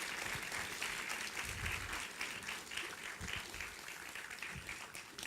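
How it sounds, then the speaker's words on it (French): An audience at a school show applauds, a steady wash of many hands clapping throughout, with some low murmuring underneath. "Thank you for your applause"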